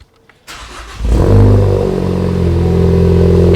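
A Ford Focus fitted with an AWE Track Edition exhaust fires up after a brief quiet moment, then settles into a loud, steady, deep-toned rumble close by, with no talk over it.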